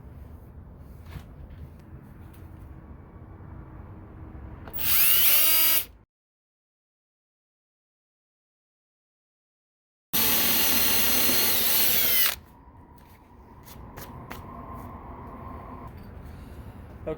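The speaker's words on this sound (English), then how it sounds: "We'll screw the hole for the carriage bolt." A power drill bores a hole for a carriage bolt through a wooden stair handrail, with two loud, steady whirring bursts separated by silence, set against quieter room noise.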